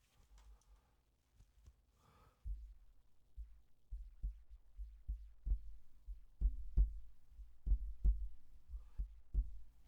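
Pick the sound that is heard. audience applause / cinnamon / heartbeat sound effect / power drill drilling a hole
heartbeat sound effect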